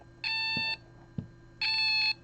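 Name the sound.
temperature sensing alarm beeping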